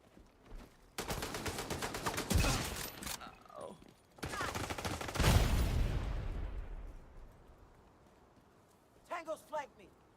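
Bursts of rapid automatic gunfire in The Division 2, two long dense volleys with a short gap between them, loud and close. Brief voice-like sounds come near the end.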